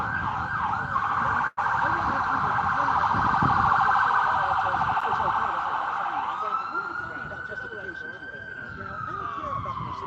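A loud ambulance siren wails steadily nearby at a street march in Orlando, its tone sweeping and shifting pitch over continuous traffic noise, with some talking underneath.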